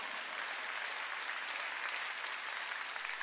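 A church congregation applauds during a Wednesday worship service, a dense, steady burst of many hands clapping at once, even in loudness and filling the whole moment without voices on top.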